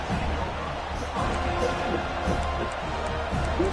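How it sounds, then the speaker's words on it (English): A packed stadium crowd at an Iowa vs Florida State college football game roars loudly and steadily for the whole stretch, a dense wall of cheering with no pause. "This crowd bringing an ear-splitting welcome to their visitors."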